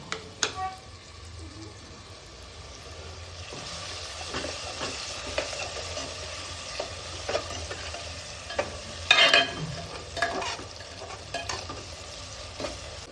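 Onion and tomato sauté in a pan for a dried prawns pulao, a low sizzle broken by frequent spoon scrapes and clinks of stirring, with a sharper clatter midway.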